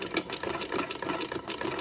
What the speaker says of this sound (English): The trick is as well with a buttonholer is to do a nice smooth, steady crank